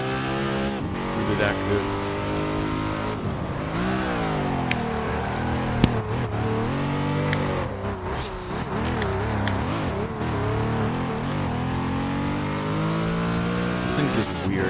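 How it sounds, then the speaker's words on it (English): A Ruf RGT, rear-engined, in the racing game Test Drive Unlimited 2 revs hard with its tires spinning and squealing. The engine note rises and falls continuously under a voice talking over it. "This just got so much wheel spin, even at full assistance steering."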